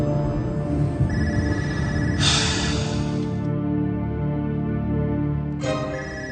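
A telephone rings insistently in repeated trilling bursts, loud and close, over a steady background music bed.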